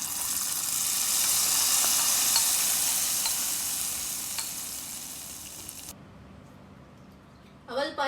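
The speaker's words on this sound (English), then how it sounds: "Now let me fry the coconut as well" Grated coconut fries in a hot pan for aval payasam, a loud, steady sizzle lasting about six seconds before cutting off abruptly, followed by quiet clinks and a brief voice at the end.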